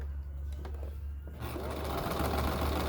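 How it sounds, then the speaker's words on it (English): A sewing machine runs a zigzag stitch to close off a fabric edge. A quieter stretch with light clicks comes first, then the motor picks up into a loud, steady, rapid chatter that lasts to the end. "So you see I did 2 zigzag stitches to close off that edge."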